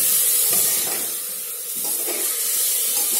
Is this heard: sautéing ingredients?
yes